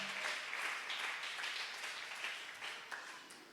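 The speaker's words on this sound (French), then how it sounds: "Acclamez d'abord très fortement pour les rois des rois." A church congregation applauds during a sermon, a dense, steady wash of many hands clapping that holds for a few seconds and eases off slightly toward the end, heard at a moderate distance without any talk over it.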